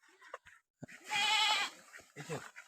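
Farm goats at feeding time on Napier grass give one clear, drawn-out bleat close by, surrounded by short scuffles and faint voices.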